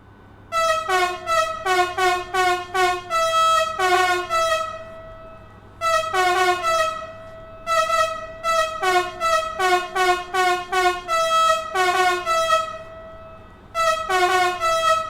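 Musical horn of a Vectron electric locomotive in Train Sim World 5, playing repeated rapid multi-tone melodic phrases in loud bursts with brief pauses, over a low steady hum of the running locomotive.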